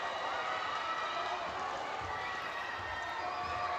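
A Windhoek crowd at a FIBA Women's Basketball League Africa game roars in a sustained, dense wash of cheering after a long three-pointer, loud and steady from start to finish with no clear break.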